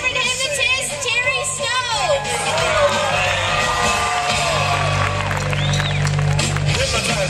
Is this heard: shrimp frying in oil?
no